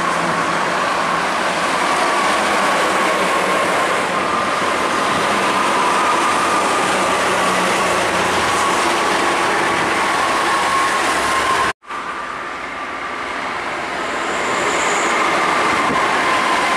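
Intercity buses, among them Murni Jaya coaches, pass on the Trans-Java toll road in Indonesia, making a loud, steady roar of tyres and engines that drops out briefly before building again.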